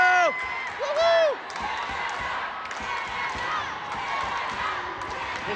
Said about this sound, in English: This crowd getting into it.